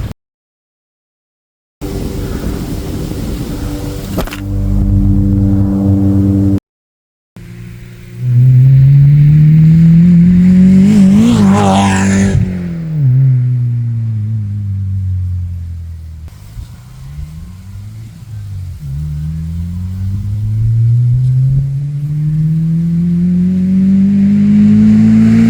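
Toyota MR2 MK3 roadster fitted with a cat-back exhaust, engine notes rising and falling as it drives past and revs, with cuts and quiet gaps between runs.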